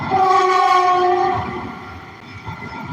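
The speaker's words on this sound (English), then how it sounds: "Oh, the train's passing." A train rolls past with a loud, sustained horn-like tone that fades after about a second and a half, leaving the rumble of rail cars clattering on.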